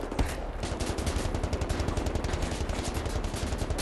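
Enemy gunfire in the shooter Wolfenstein: The New Order, a loud rapid machine-gun stream of tightly spaced shots that runs unbroken throughout, close and harsh, with no talking.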